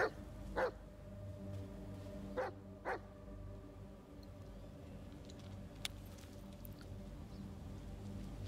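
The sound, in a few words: dog barking in Blair Witch video game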